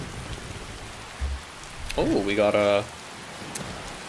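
Steady rain falls in the Skyrim video game, a soft continuous hiss throughout, with someone briefly speaking over it midway.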